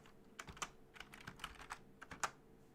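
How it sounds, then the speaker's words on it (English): Quick, uneven bursts of typing on a computer keyboard during live stock day trading, close and fairly quiet clicks and clacks with brief pauses between runs, no talking. "What is going on with my typing here?"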